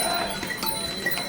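Horses and mules plod along the Kedarnath pilgrimage trail, hooves clip-clopping in a few faint, uneven knocks at a distance amid soft outdoor background noise.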